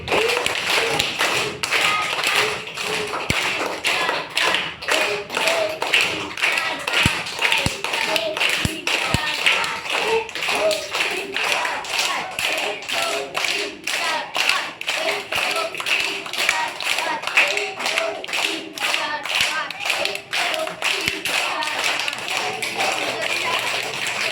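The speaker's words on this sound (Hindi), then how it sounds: "5 बार ताली बजाएंगे" Hand claps and taps repeat steadily throughout a long stretch, dense and fairly close, mixed with shuffling and light thuds, with voices in the background.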